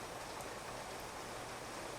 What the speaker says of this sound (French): la pluie qui semble s'intensifier maintenant.